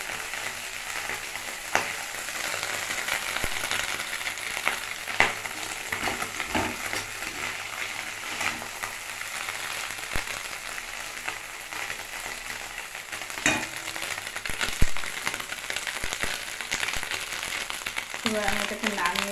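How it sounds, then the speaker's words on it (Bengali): Fish frying in a pan, a steady crackling sizzle running throughout, loud and close, with occasional clinks and stirring, and speech audible over it at times. "মাছগুলো কালার এসে গিয়েছে, ভালো করে ভাজাও হয়ে গিয়েছে।"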